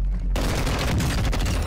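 Rapid gunfire from Warzone 2 erupts after a brief quiet moment, a dense, loud and close burst of shots that continues without a break.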